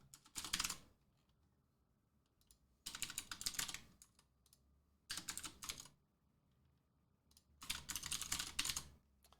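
Bursts of typing on a computer keyboard while writing code for a Wall Slammer Escape game project, four separate runs of rapid key clicks with quiet pauses between, close and alone.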